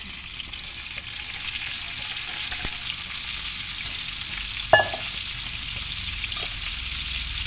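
Onions frying in a pan while braised chicken with fennel, lemon and dates is being prepared, a soft continuous sizzle with a brief sharp clink of a utensil midway, no talking.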